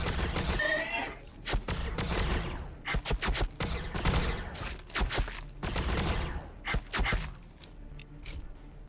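Dense bursts of Warhammer 40K: Battlesector gunfire crackle in rapid, uneven volleys over a rumbling battlefield, with brief gaps between clusters of shots.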